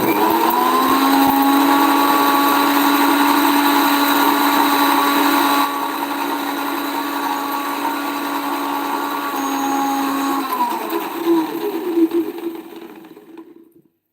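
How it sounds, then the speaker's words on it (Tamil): A loud electric blender grinds ingredients into juice with a steady high whir that shifts pitch midway, then slows and winds down to silence at the end. "நல்லா ஜூஸாக அரைச்சி"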